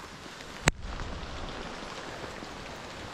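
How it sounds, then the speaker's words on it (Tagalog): Steady rain falling at a campsite in the Philippines, a constant soft hiss after one sharp knock near the start, with no voices. "Maulan pa rin pero okay lang."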